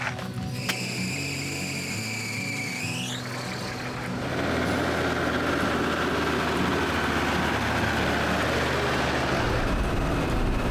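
A Land Rover Defender pulls away on an African overland route near the Serengeti. A rising mechanical whine gives way to steady, loud engine and road rumble that continues to the end.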